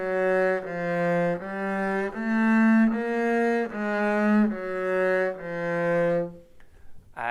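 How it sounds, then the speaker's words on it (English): Double bass playing a melodic minor scale from the fifth upward and back down, about eleven evenly spaced sustained notes, close and resonant, with no voices before a brief noise at the end. "going up and going down from the 5th sounds like this"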